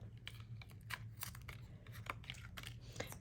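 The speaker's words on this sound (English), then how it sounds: "scissors that I use to cut sticky things, the micro tip scissors" Faint snipping and crinkling of micro-tip scissors cutting through a strip of sticky 3D foam tape, several quick cuts over a low background hum.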